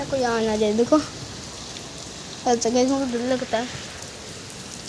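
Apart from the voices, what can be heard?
rain falling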